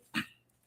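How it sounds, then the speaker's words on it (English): A single short dog bark, close and fairly loud, followed by quiet. "That's my dog, man."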